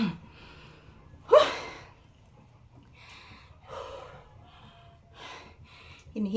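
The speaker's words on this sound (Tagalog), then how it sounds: "Hinihingal ako guys." Heavy, faint breathing from a person recovering after exercise and dancing, with a sharp snort-like gasp early on followed by several softer breathy exhalations spread across the quiet stretch.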